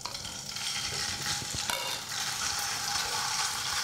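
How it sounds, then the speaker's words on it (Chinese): Sliced pork hitting hot oil in a wok for a garlic-shoot stir-fry, a loud steady crackling sizzle that continues throughout, with a few clinks of the pan being stirred. "我们可以下肉片。"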